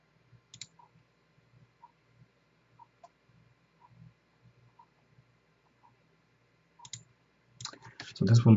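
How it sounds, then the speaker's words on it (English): A computer mouse double-clicks twice, quick faint paired clicks near the start and again later, with soft background noise, before a loud rumbling burst at the end. "So double click this."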